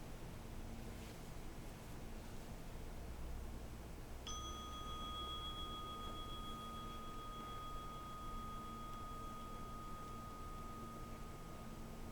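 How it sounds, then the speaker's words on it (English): A single meditation bell is struck once partway through and rings out in a long clear sustained tone that slowly fades, over a faint quiet background hiss with no talking. "let's listen for the bell"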